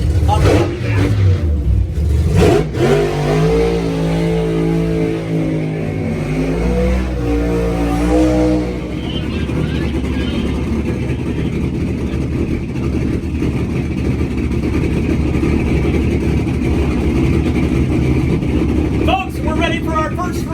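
Drag racing car engine at a night race start, a loud revving roar with rising harmonic sweeps in the first seconds, then a sustained heavy rumble, with crowd and announcer talk over it.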